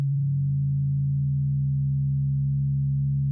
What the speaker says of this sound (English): you can kind of hear that distortion, the FM and sidebands in the sound a little bit.